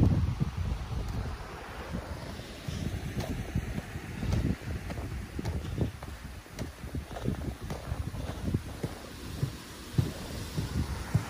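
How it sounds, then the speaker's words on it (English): Snowmelt water of Grout Creek flowing toward Big Bear Lake, a broad steady rush with heavy wind buffeting the microphone, outdoors and continuous, with no talking. "It's a little river coming through."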